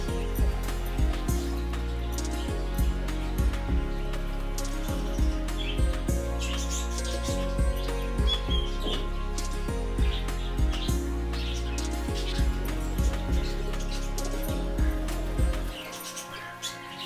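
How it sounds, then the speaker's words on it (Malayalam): Lovebirds in an aviary on a farm give steady, busy chirps and tweets throughout, with a dense layered backdrop that stays loud until it drops away near the end. "ലവ് ബേഡ്സിൻ്റെ ഒരു സെക്ഷനാണ് ഈ കാണുന്നത്."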